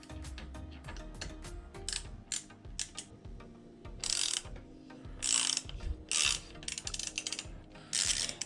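Ratchet fitted with a 4mm hex bit socket working the stem bolts on a Kugoo M4 Pro electric scooter: quick clicking pawl ratchets in irregular bursts with metallic scraping and gear rattle, close up, no talk.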